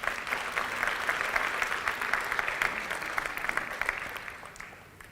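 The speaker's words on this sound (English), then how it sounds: "let's give them a round of applause" An audience at a university graduation ceremony claps continuously, a dense, steady applause at moderate distance that fades slightly toward the end.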